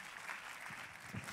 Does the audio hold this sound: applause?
yes